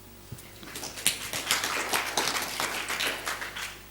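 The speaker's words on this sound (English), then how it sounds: "Let's give Kelvin a big clap here" An audience claps for Kelvin, a brisk burst of many hands with sharp individual claps rising quickly and staying lively and fairly close throughout.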